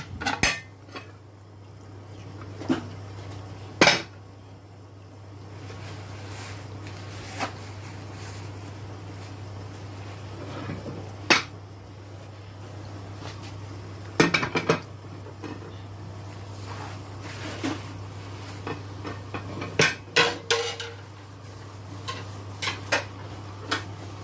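Pots, dishes and cutlery being tidied up in a home kitchen after cooking okra soup, scattered clanks and clinks of metal and crockery over a steady low hum from the stove, no talking.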